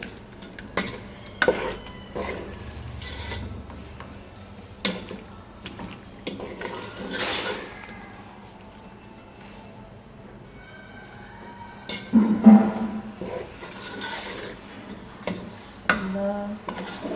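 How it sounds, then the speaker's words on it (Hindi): Boneless beef being stir-fried (bhuna) in a pot for haleem, with a spoon scraping and clanking against the pot at irregular intervals over a soft sizzle, nearby, with a few brief moments of speech. "तकरीबन 4 से 5 मिनट तक भूनूंगी"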